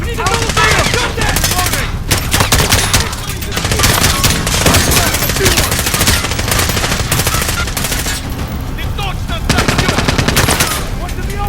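Loud, sustained machine gun fire in the video game Call of Duty: Modern Warfare (2019), rapid bursts overlapping almost without pause, with shouting voices mixed in.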